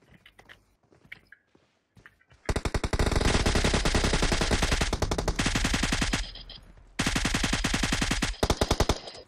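Automatic rifle fire in PUBG, played on an emulator, rattles out in long loud rapid bursts with a brief pause between volleys, preceded by a few quieter scattered shots and faint muffled talk.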